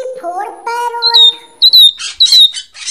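A parrot squawks in a burst of sharp, rising and falling calls, then several loud, harsh chirps in quick succession, close and clear with nothing else behind them.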